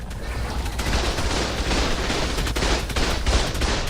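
Turrets mounted on a quad platform open up on dinosaurs in a video game, a dense, continuous barrage of rapid gunfire with overlapping bursts that stays loud and close the whole time.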